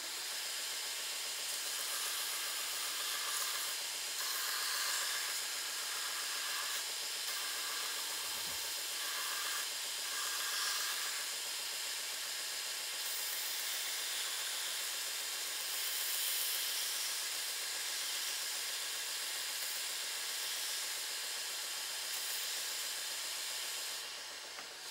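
Bench-mounted non-abrasive wheel spinning slowly against the edges of a Kydex plastic knife sheath, a steady airy whir and hiss that swells slightly as the plastic is pressed on, continuous and alone.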